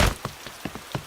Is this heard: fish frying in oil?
no